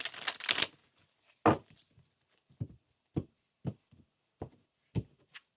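Tarot cards being shuffled by hand, a burst of riffling followed by a series of separate soft slaps and taps as the deck is cut and squared, close and fairly quiet with pauses between.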